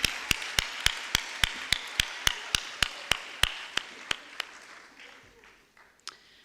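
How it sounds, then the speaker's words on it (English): Sparse, crisp claps repeat at an even, quick pace from an audience at a secondary school sports awards evening, gradually thinning and slowing until only faint room sound and one last clap remain. "Can we please give him a huge round of applause"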